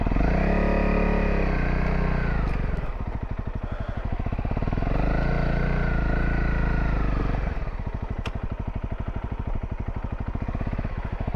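A Honda CRF250L trail motorcycle rides over rocky ground, its engine loud and close throughout, droning steadily, easing off near three seconds, surging again, then dropping to a rougher, pulsing idle-like beat near the end.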